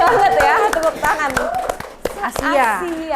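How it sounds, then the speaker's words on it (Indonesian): A few scattered hand claps ring out amid lively talking and chuckling, close and loud, more like a small group clapping than full applause. "Tepuk tangan"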